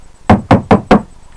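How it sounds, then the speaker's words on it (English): Four firm knocks on a door in a steady, evenly spaced rhythm, close and loud against a quiet room. "Knock on the door."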